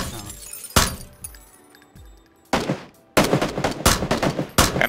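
Several loud gunshots crack out in PUBG, one early, then a burst of rapid shots in the second half, with short gaps and glassy echoes between them.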